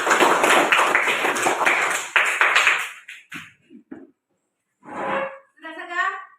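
A class of students claps together in a classroom, a loud, dense burst lasting about three seconds that stops abruptly, followed by a few short voices speaking.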